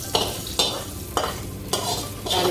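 Spices tempering in hot oil for okra sambar, a steady sizzle broken by four or five sharp stirring scrapes of a spoon against the pan at regular intervals.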